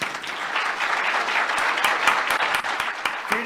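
A crowd's sustained applause at a hearing, dense steady clapping throughout, loud and close, with a faint voice near the end.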